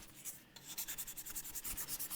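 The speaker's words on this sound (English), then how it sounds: "All I need to do is get her sanded." Sandpaper rubs against a wooden handle spinning on a lathe, a close, steady hiss with soft rhythmic pulses, continuous and fairly quiet.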